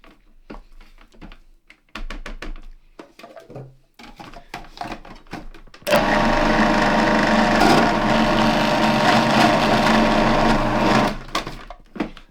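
Food processor blitzing a falafel mixture in a home kitchen, with short scraping and clattering sounds first, then a loud, steady whirring burst lasting several seconds before it cuts off.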